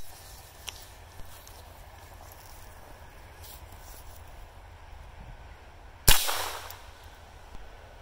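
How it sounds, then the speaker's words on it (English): A single sharp crack of a 22LR CCI Mini-Mag round fired from an 11-inch barrel AR pistol, loud and sudden after several seconds of quiet outdoor ambience, with a brief decaying tail. "we're going to start out by shooting it with one round of 22LR CCI mini mag out of this 11-inch barrel AR pistol"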